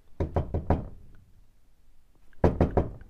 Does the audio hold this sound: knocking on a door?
yes